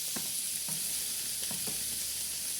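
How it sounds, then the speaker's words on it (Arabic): Kibbeh for mansaf frying in melted, finely minced fat crackles steadily and loudly, with a few stirring scrapes on top and no talk. "وهلا بدي اقلي كبابتي"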